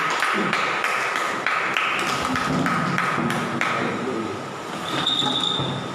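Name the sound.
congregation clapping hands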